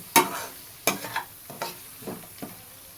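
Spice masala with turmeric and garam masala fries in oil for a jackfruit curry, a soft sizzle broken by several sharp stirring scrapes and taps of a spoon in the pan, close and alone.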